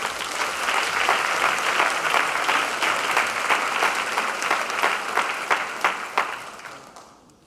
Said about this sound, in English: So I want to clap for you.